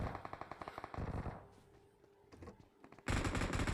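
Rapid automatic gunfire in the mobile shooter PUBG Mobile crackles in bursts, a steady stream of shots that fades into scattered pops before another loud burst erupts.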